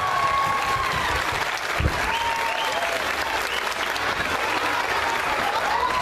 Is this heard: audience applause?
yes